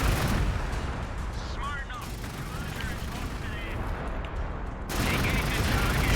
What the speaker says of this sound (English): Shoot them with a bunch of basilisks